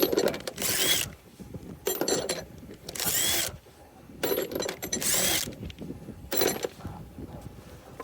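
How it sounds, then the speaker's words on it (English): Lug nuts being spun off a 2017 GMC Sierra truck wheel during a tire change, heard as five or six bursts of rapid ratcheting whir separated by brief pauses, close and fairly clear, no talk. "Now we got all lug nuts completely off."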